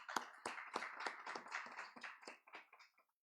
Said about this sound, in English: And perhaps we could just give them a round of applause.